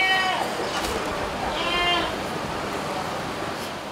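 Goats and sheep bleat at a sacrificial livestock market in Aceh Besar, several overlapping harmonic calls in the first two seconds over a steady crowd murmur, with faint talk in the background.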